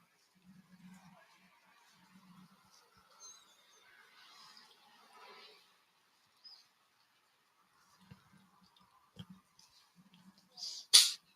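A small animal gives a sharp, brief sneeze near the end, after quiet snuffling and faint rustling sounds.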